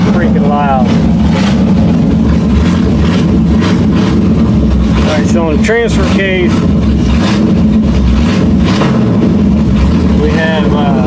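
A 1979 Chevy K20 truck engine runs loud and steady close by, a dense rumble with no choke hooked up, continuing throughout while someone talks over it.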